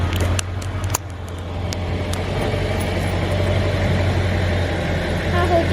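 Cars idle and roll through a thrift store parking lot in light rain, a steady low engine rumble filling the scene with a few sharp clicks early on, while people talk faintly nearby.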